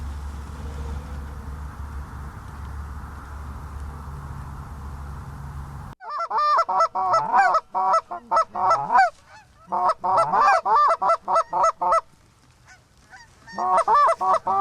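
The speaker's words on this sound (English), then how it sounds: "This is fun to hunt these honorable geese." Geese fly in during a goose hunt. After a stretch of low outdoor rumble, a close, loud chorus of repeated honking breaks out in bursts, with brief shouted words from hunters mixed in.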